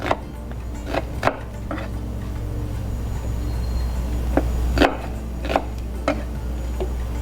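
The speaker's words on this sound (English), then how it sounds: "white onion, just to give little bit of flavor. Okay, so just chop them up." A knife chops white onion on a board for mint chutney in irregular sharp cuts, close and clear over a low steady hum, with no voices.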